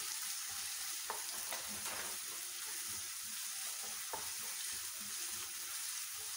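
Onion frying in a pan for upma gives a faint, steady hiss of sizzling oil, with a few soft clicks from stirring now and then.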